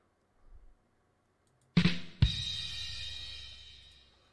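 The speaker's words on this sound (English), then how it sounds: "It was a drum sound, you know, funny drum sound, because, you know, poorly timed sound effects are funny." A funny drum sound effect boom: two sharp, loud hits in quick succession, the second ringing out into a long, bright, slowly fading decay after a near-silent lead-in.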